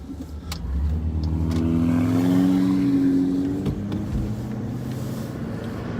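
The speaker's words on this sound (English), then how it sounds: "there's a lot of cars out right now" Several cars pass along a road at night during a police patrol, with engines swelling up and fading as they go by, one rising engine note standing out clearly before the traffic settles into a steady background hum.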